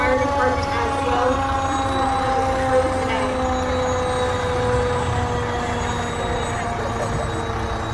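The Erie Fire Department's aerial ladder truck rolls through a St. Patrick's Day parade, its siren and horn tones sustained and loud over engine rumble while an announcer talks over the noise.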